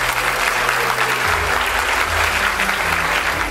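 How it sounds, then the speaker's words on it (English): An audience applauds at an online sales promotion ceremony, dense continuous clapping at a loud, even level with a low tonal hum beneath. "let's give them a big round of applause."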